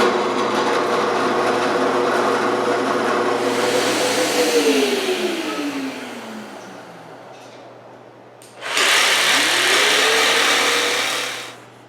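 A power tool cutting a groove in wood for a work table whines loudly at full speed, then spins down with falling pitch, goes quiet, and roars up again for a second cutting pass before stopping.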